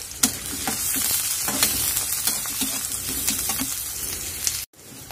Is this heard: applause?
no